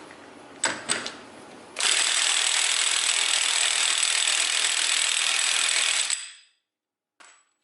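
A cordless impact wrench hammers on the front axle nut of an E92 BMW 335xi in one loud, sustained burst of rapid rattling blows. A few brief clicks come before it, then it winds down and stops, followed by a short faint knock.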